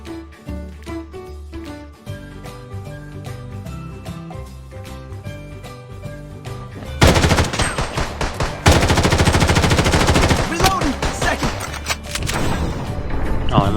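Gunfire in the shooter game Blood Strike: rapid automatic bursts, sparse at first, then dense, loud sustained machine-gun fire dominating the second half.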